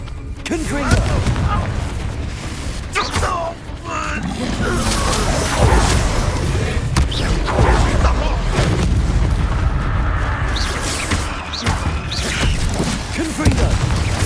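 Confringo blasting spell explosions in Hogwarts Legacy, deep booming blasts over a loud, dense battle backdrop, with several impacts and crashes mixed among game voices.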